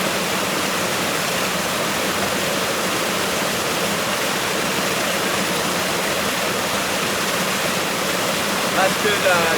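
Mountain stream water rushing and splashing steadily outdoors, a loud continuous broadband wash that holds even throughout with no pauses.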